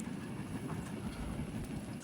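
Steady, faint rumble and rattle of a train moving through Walayar railway station in the forest, continuous with no talk.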